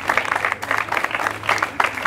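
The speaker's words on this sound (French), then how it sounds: "Applaudissez s'il vous plaît" Studio audience at an educational television broadcast breaking into applause, a dense patter of many hands clapping at moderate loudness, with a faint low hum beneath.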